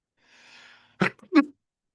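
A faint indrawn breath builds up, then a sharp sneeze bursts out in two quick parts, close and alone.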